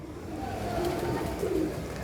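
Pigeon cooing, from a fancy breed kept for its short, closed tail, comes as soft low murmurs that swell twice over steady background noise, close and gentle.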